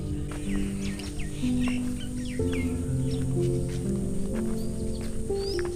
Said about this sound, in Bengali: গাছের একটু গহীনে ঢুকলেই শুনবেন পাখির কলরব।